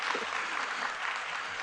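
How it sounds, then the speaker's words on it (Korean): Audience applause fills a keynote session at a church conference on developmental disabilities, a steady dense wash of clapping from a large crowd that holds evenly throughout with no voices over it. "우리 박수 한번 쳐주시면 감사하겠습니다"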